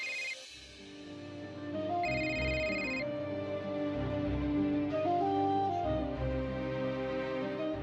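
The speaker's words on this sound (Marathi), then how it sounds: "शिवाला फोन करते." A telephone rings with a steady electronic tone, heard near and clear over a background of soft music.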